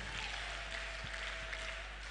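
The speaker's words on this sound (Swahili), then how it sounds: "Pigi Yesu makofi kama mimi." A church congregation at a New Year service claps for Jesus in a dense, steady patter of many hands. The clapping stays fairly faint and even, with no talking.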